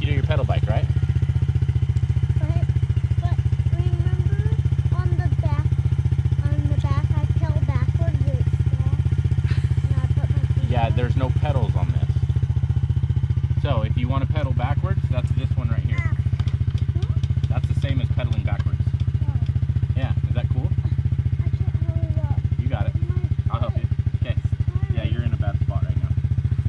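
A Yamaha TTR50 dirt bike engine runs loud and close at a steady idle with a few brief revs, while voices talk over it throughout.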